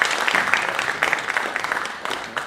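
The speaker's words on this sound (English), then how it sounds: "Give Seth a round of applause." A tech-conference audience applauds the speaker at the end of a CLI automation talk, with dense, continuous clapping filling the room at fairly close range and no voices over it.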